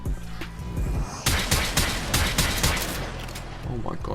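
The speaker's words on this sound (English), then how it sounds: "Oh, hip fire snipers, yes." Hip-fired Snipetron Vandal sniper rifle shots ring out in the Warframe video game, a rapid burst of loud, sharp reports after a quieter opening, with a voice talking.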